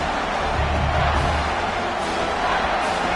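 A college football stadium crowd at an Ole Miss vs Georgia game roars steadily on a third down, cheering on the defense in a sustained broad swell of noise.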